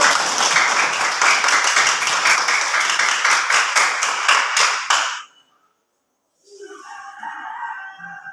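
A classroom of pupils claps together, sharp rhythmic claps for about five seconds that stop abruptly, followed by silence and then a rooster crowing nearby.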